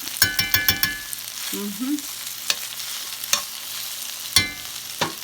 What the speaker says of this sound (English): I'm getting ready to move you and the cabbage over here to this skillet